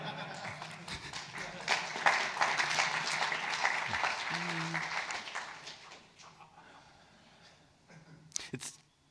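A conference audience breaks into applause that swells, holds for several seconds and then fades out, with a few stray claps and brief voices near the end.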